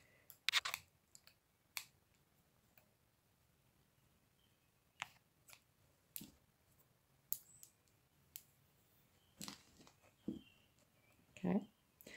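Crochet thread being snipped with scissors, a series of sharp, quiet clicks spaced irregularly across a soft, near background.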